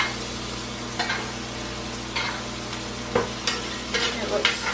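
A steak sizzles steadily in a pan of butter and garlic while being basted, with a constant frying hiss up close and occasional spoon scrapes and clinks against the pan.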